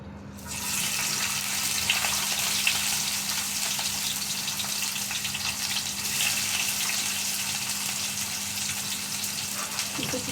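Chili, onion and garlic fry in hot oil for a banana-peel mash, giving a steady, close, hissing sizzle that holds evenly for about ten seconds over a low hum.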